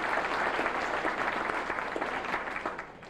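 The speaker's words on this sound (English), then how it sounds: "I'd like a round of applause for her." A full room applauds at a workplace service-anniversary celebration, a steady wash of many hands clapping that eases slightly toward the end.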